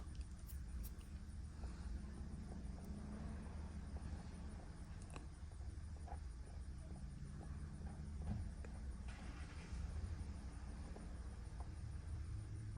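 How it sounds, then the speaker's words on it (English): An automatic car wash running with a 2011 Honda Pilot inside, giving a steady low rumble and wash-down noise that stays loud and continuous throughout, with scattered knocks and thumps and no voices. "I'm going through the car wash here"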